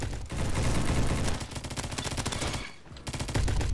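An MP7 submachine gun fires in a video game, letting off fast, continuous automatic bursts with short pauses between strings of shots.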